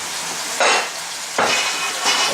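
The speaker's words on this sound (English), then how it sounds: "I'm going to hit it with about 3 tablespoons of vegetable oil. Okay, and here I have cooked rice." Cooked rice fries and is stirred in about three tablespoons of hot vegetable oil for pork fried rice, a steady loud sizzle with three bright scraping stir bursts at regular intervals.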